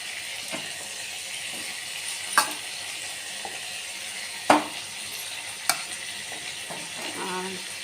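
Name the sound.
ginger paste frying and being stirred in pan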